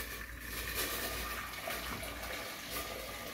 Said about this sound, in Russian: наливаем водички